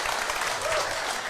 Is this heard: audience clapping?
yes